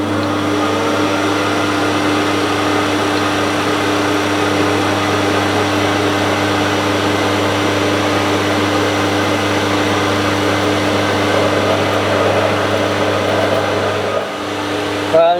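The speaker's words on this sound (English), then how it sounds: "Right, let's get this centre drilled." Metal lathe centre drilling a steel alternator shaft for a micro hydro turbine: a steady motor whine and broadband machining hum run continuously, loud and close, easing off near the end.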